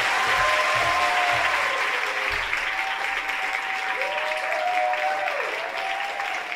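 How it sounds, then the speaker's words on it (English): Steady applause from an audience at a youth concert for the performing artists, a continuous wash of clapping with some faint whistles or tones rising and falling over it. "one last round of applause for all the artists who come up to the"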